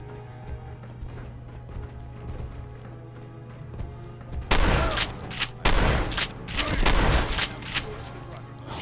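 Gunshots in Fallout 4, a rapid cluster of loud close shots starting around halfway through, with a quieter steady background hum before them.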